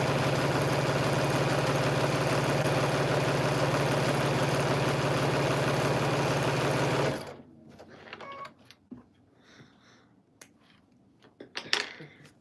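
A sewing machine runs fast and steadily for about seven seconds while strips of fabric for a Christmas quilt are strip-pieced. Its close mechanical hum then stops, and a few quiet clicks and rustles follow.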